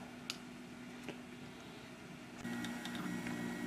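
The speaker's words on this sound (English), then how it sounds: "So we're going to print it in red PLA and see what happens." An Anet A8 3D printer prints red PLA filament, giving a quiet, steady whir with faint ticks and small clicks from the moving parts, growing slightly louder partway through, with no talking.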